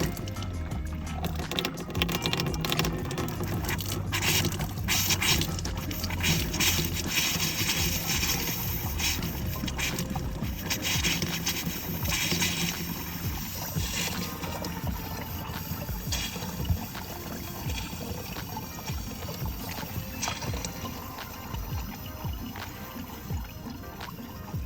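Water drains and trickles through the kitchen sink plumbing of a NuCamp 320 camper being winterized, a steady close pouring and gurgling flow that continues throughout with little change in level.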